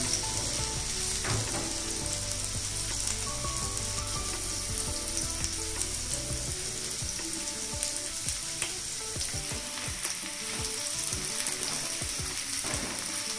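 Sliced onions sauté over a medium flame in a pan for an onion chutney served with dosa, giving a steady, close sizzle and crackle throughout, with occasional stirring scrapes and no talking.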